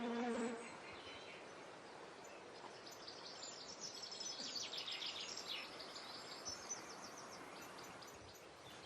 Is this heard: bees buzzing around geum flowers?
yes